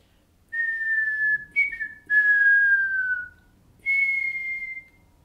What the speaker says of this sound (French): Là, dans la nuit, elle a sifflé 3 fois.